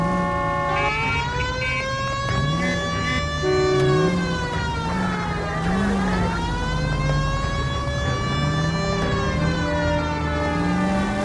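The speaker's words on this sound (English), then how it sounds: "At least switch the siren on." Police car siren in the video game L.A. Noire, a loud continuous wail sweeping up and down in pitch for over ten seconds, close and prominent with engine rumble beneath.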